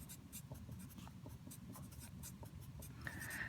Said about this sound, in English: So let's write this.